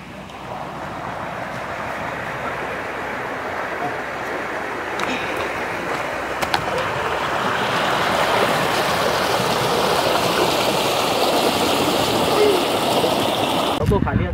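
River water rushes and splashes steadily at a village swimming spot, a broad continuous wash that swells louder midway, with wind buffeting the microphone.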